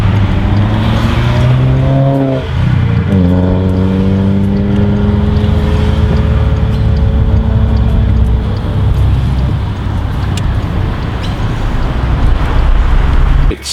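A Bentley Continental V8 S with its sports eight-speed automatic gearbox revs hard, its pitch climbing, dipping briefly at a shift around two seconds in, then climbing again into a loud, sustained roar that settles into a steady drone.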